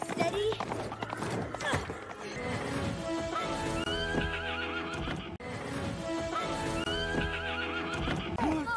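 Horses in the animated film Spirit Untamed neigh and whinny repeatedly while hooves clip-clop, with several loud, shrill calls over a busy scene as horses are loaded onto a ship, backed by music.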